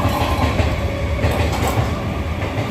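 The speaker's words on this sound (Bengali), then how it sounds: "আর ট্রেন দেখাচ্ছি।" A train rolls past close by, a loud, unbroken roar of wheels and carriages with a rhythmic low rattle running the whole time.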